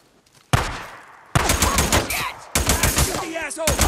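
Bursts of automatic and single gunfire in the Days Gone video game, loud and close, coming in three separate volleys with sharp repeated shots and shouting voices between them.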